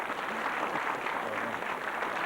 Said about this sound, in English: this is a suitable case for a great round of applause for our brand new champion, Alison Moore